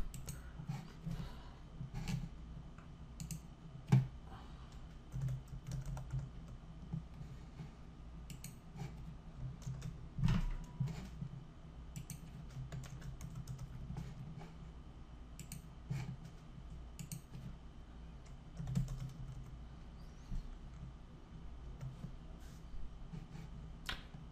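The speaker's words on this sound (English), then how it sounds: "I'll click on Add Answer at the bottom and type in the answers" Keys click on a computer keyboard as answers are typed into a form, with sparse, irregular taps at a faint level over a quiet background hum and no speech.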